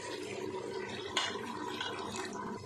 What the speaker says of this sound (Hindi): मैं 1 कप इसमें पानी डाल देती हूँ।